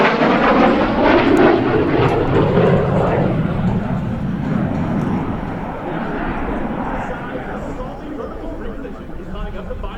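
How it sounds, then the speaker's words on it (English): An F-16 fighter jet flies a four-point roll at an airshow, its engine a loud roar that rises and then eases off, while an announcer talks and a crowd murmurs. "And now, from the left is the F-16 and the 4-point roll."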